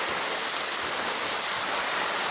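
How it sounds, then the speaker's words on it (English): Chamberlain Creek waterfall in Jackson State Forest, heard from the bottom of the falls as a steady, loud, broadband rush of falling water with no breaks. "Chamberlain Creek Waterfall."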